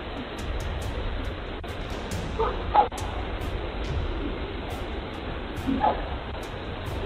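A dog barks in two short distant bursts a few seconds apart against a quiet outdoor background hiss.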